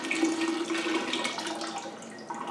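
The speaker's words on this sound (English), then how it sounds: "What I do now is I add this tea right to the cold water." Water running and splashing into a container of cold water as tea is added, a steady close pour with a faucet-like hiss throughout.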